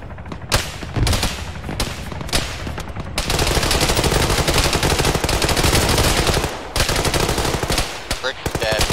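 Automatic rifle fire in Arma 3 rattles in long, loud sustained bursts, with brief gaps between volleys and a few short trailing shots.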